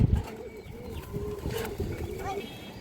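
Pigeons coo softly at a pigeon farm, a few low rolling calls heard up close with a person talking over them.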